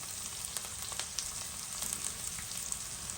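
Garlic and ginger frying in a pan with onions for a shrimp and vegetable curry, a steady close sizzle with faint crackles and pops throughout, no talking.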